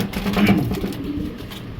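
Pigeons coo in a low, continuous murmur, fairly close, with no voices over them.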